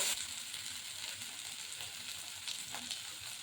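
Onion, garlic, ginger and chili pastes sizzle steadily as masala fries in hot oil, a dense continuous hiss with faint stirring scrapes, close and alone without voices.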